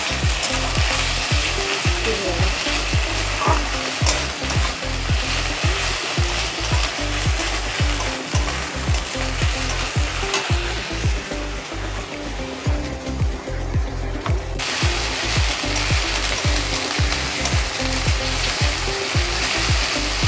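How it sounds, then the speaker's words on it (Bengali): Ginger-garlic paste fries in hot oil in a pan, a loud, continuous close sizzle with a steady rhythm of spatula scrapes as it is stirred throughout. "আদা রসুনটাকে ভালো করে তেলের পরে নেড়ে নিতে হবে, যাতে কাঁচা গন্ধটা চলে যায়।"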